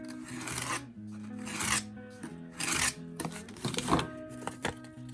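Scissors cut through a sheet of watercolor paper in several close, raspy bursts of scraping and rustling, with short pauses between strokes and no talking.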